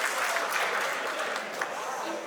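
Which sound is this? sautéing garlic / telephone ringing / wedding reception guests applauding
wedding reception guests applauding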